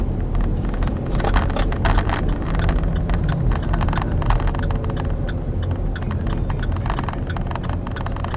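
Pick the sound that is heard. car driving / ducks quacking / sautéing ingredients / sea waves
car driving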